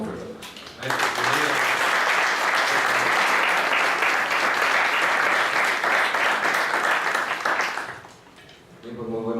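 An audience at a law faculty lecture on Mexico's popular consultation applauds to welcome a speaker, a dense, sustained burst of clapping that swells after a voice and fades near the end as talk resumes.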